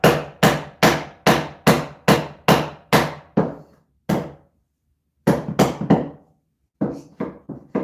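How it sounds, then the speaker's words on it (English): Hammer blows striking a 2x4 while framing a wall, a steady run of about ten sharp, loud, close strikes, then a pause, a single hit, and two more bursts of rapid taps, with no talk. "if I split the 2x4 with my hammer, it will stop and get to the bottom of this joist"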